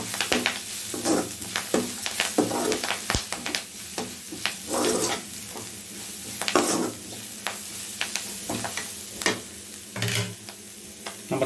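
Drumstick leaves fried in a pan with salt and stirred, a steady sizzle broken by repeated scraping strokes of a spoon at an uneven pace, close up, with no talk.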